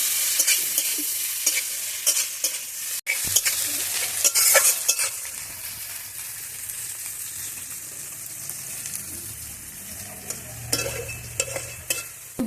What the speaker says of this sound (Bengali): বন্ধুরা দেখো আলুগুলো খুব সুন্দর সরসলা করে ভেজে নিয়েছি